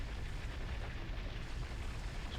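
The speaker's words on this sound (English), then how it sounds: "one of the other cool tools you get is plasma cannon drill" A plasma cannon drill in the game Empyrion Galactic Survival bores into the ground with a low, continuous rumbling, crackling roar, fairly quiet and steady without pauses.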